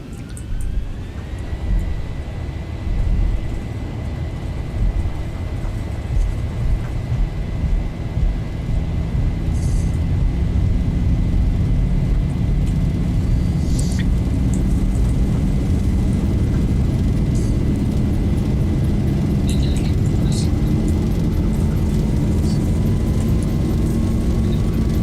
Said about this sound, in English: we are now going to just do our takeoff as normal